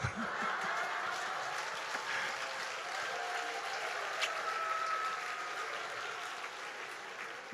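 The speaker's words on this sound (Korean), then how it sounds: "박수 받으려고 한 건 아닌데요" Congregation applause with some light laughter during an evening Sunday sermon at a Baptist church, a steady, moderately faint wash of clapping lasting throughout with scattered chuckles.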